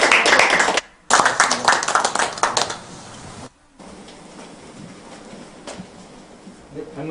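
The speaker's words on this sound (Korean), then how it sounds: "박수 한번 쳐주세요." Clapping from the audience at the 21st Korea Semiconductor Design Contest award ceremony, a loud burst that breaks off, resumes briefly and then thins into scattered faint claps and room noise, with a short gap before it tails off.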